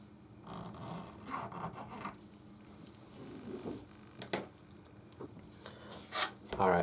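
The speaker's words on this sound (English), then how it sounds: "So you take your coin and then you're just going to draw around it twice." A pen or pencil traces twice around a coin on the rough side of a sheet, producing soft, close scratchy rubbing strokes in short bursts with quiet gaps between them.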